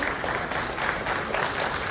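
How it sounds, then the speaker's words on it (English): Audience applause at a sports start-up awards event in India, a dense steady wash of clapping that stays loud and even throughout, with no voices over it. "A big round of applause, please."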